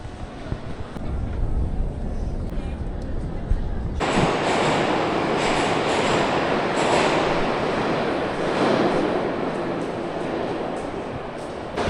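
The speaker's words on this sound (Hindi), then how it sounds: "यहाँ की मेट्रो भाई इतनी आवाज़ कर दे रहा है कि इंसान बात भी नहीं कर पाएगा मेट्रो के अंदर" A metro train in Russia runs loudly: a quieter rumble gives way to a sudden, sustained roar of wheels and rattling carriage noise.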